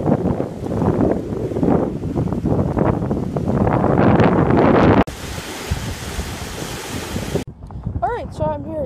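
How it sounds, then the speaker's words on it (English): Strong winter wind blows outdoors in Central Park on an ice-fishing outing, roaring and buffeting the microphone in heavy, continuous gusts, with abrupt shifts in the rumble. "It's pretty windy out"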